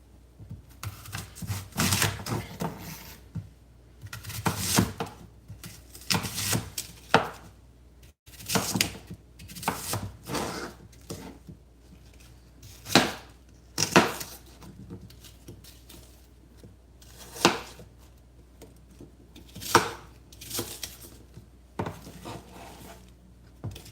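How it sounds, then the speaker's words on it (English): Knife cutting up an apple on a board, with a long run of irregular crisp chops and taps, some sharper and louder, spread out over several seconds with small pauses between. "We're going to cut up this apple and then we're going to add it to our green vegetables."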